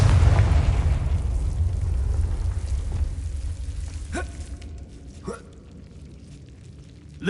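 Confringo explosive spell in Hogwarts Legacy, a loud booming blast that rumbles and fades, followed by two smaller sharp pops as debris settles.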